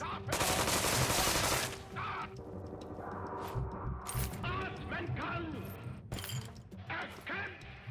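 Soldiers fire guns in the video game South Park: The Stick of Truth. A dense burst of rapid automatic gunfire opens loudly, then gives way to scattered shots, clanks and game effects under ongoing talk.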